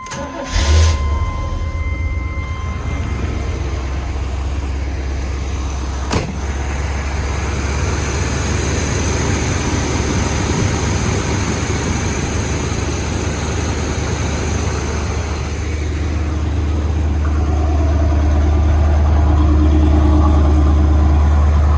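A 1980 Chevrolet Corvette engine cranks and catches, then settles into a steady, loud, rumbling idle close by, swelling slightly toward the end, with no voices.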